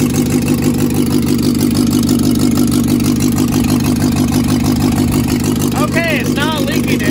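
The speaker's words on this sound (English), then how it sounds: "Now that the engine runs" The engine of a 1961 Morris Minor pickup idles steadily and loudly up close, a continuous even throb for the whole stretch, with a faint squeaky chirp near the end.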